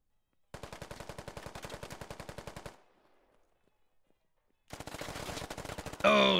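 Rapid automatic gunfire from the video game Squad Ops, two loud bursts of fast regular shots separated by a couple of seconds of near silence, ending with a brief harsher noise.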